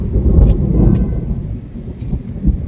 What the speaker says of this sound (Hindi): आपको भी सुनाई दे रहा है बादल गरज रहे हैं